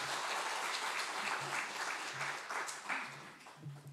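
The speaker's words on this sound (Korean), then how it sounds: "박수로 격려해." A church congregation applauds steadily throughout, a dense, continuous wash of clapping at moderate distance with no talk over it.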